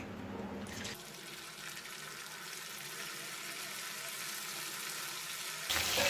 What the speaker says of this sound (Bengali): এবার পনিরগুলো ভেজে নেব কর্নফ্লাওয়ার দিয়ে মাখিয়ে রেখেছিলাম